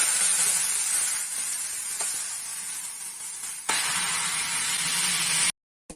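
Broad beans (avarakkai) sizzle and hiss steadily in a hot pan, a continuous close frying sound with faint stirring scrapes, ending abruptly.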